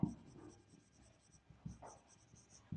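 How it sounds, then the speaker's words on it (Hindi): Chalk or pen writing on a board during a maths lesson, a few soft scratchy strokes that are faint and intermittent over a quiet room, with no talking. "यहाँ लिखेंगे हम"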